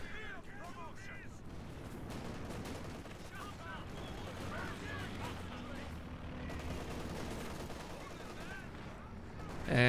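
Artillery shells land during a Company of Heroes 2 battle, a dense run of distant booms and crackling gunfire beneath continuous commentary, with the level staying fairly even throughout.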